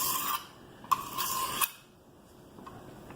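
A few short, gritty passes of a kitchen knife over a coarse sharpening stone, close and fairly quiet, ending in near silence.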